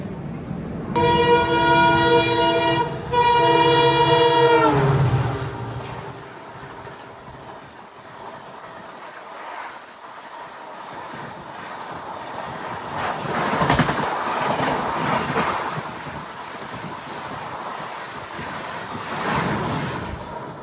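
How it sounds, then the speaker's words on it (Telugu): A Bikaner Express train passes close by near Palghar, a loud rushing roar with a tonal horn-like whine at the start, then fading into a continuing rumble with wind-like noise. "ఇప్పుడు వెళ్ళింది కదా అది బికనీర్ ఎక్స్ప్రెస్"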